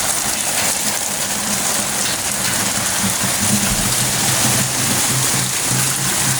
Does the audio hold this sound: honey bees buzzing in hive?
no